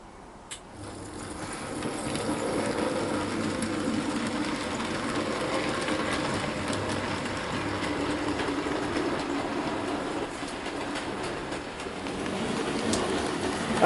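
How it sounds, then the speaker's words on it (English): A model train rumbles steadily along layout track, pulling a Wrenn six-wheeled milk tanker wagon, with a continuous clattering whir, close by and moderately quiet, with no talking. "this wagon has ever been run around the layout being pulled by a locomotive"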